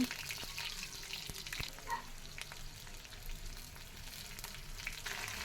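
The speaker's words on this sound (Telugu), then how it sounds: "కడాయి పెట్టుకొని అందులో ఆయిల్ వేసి ఆయిల్ హీట్ అయిన తర్వాత ఆవాలు వేయండి ఆనియన్స్" Mustard seeds and onions fry in hot oil in a kadai for drumstick rasam, a quiet, soft sizzle broken by scattered small pops and light clicks from the pan.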